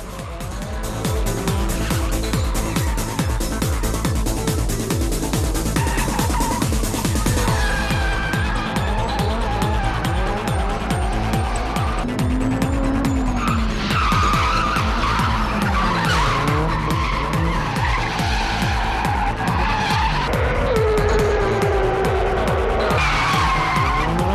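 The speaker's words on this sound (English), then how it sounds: "in about half an hour they gather somewhere else and start drifting again" Cars drifting at an underground street gathering, among them a drift-specific Nissan S15 Silvia, scream with sustained tire squeal and skidding over roaring, revving engines, loud and continuous with the pitch rising and falling as the cars slide past.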